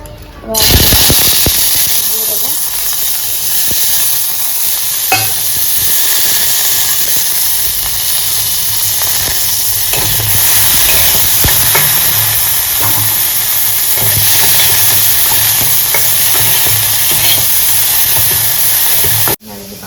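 A little oil heats in a pan before a capsicum omelette, giving a loud, continuous hiss and sizzle with scattered faint clicks that runs nearly twenty seconds before stopping abruptly.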